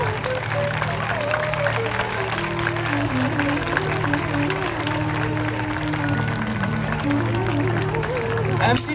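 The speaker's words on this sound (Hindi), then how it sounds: "तालियां तालियां।" An audience claps after a children's Ramleela performance in a hall, a sustained wash of applause with music playing and a voice speaking over it.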